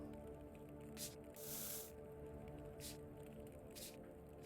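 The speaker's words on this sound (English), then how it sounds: "Let's just spray a little more oil on it." Gun oil sprays onto a firearm in Into the Radius in a series of short hissing bursts, one longer than the rest, over a low steady hum.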